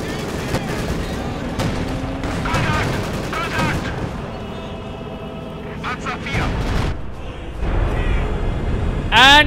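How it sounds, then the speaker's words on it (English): Heavy artillery impact from a Schwerer Gustav railway gun in the strategy game Company of Heroes 2, striking a field gun amid layered gunfire, machine-gun bursts and explosions, with a loud blast near the end over steady commentary. "the field gun did not survive a hit from the Schwerer Gustav"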